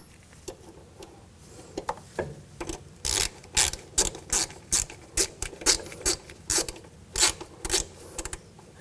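Ratchet wrench tightening a nut on the front strut level sensor bracket of a 2000-2006 BMW X5, a series of close, crisp clicking bursts in quick rhythmic strokes, growing louder and more regular toward the end.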